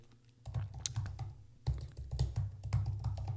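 Keystrokes on a computer keyboard while text is entered into a no-code app builder, a close, irregular run of clicks and taps that picks up after a brief pause, with no talking.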